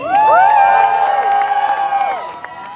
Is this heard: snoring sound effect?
no